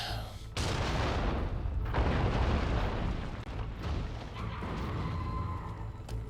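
Hand cannon blasting in the video game Nioh 2, heavy booming shots with rumbling explosive tails over sustained dense combat noise.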